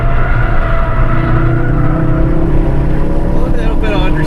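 Ford Focus RS engine on a race track, a loud, steady in-cabin drone with rising harmonic tones as it accelerates, talk audible beneath it.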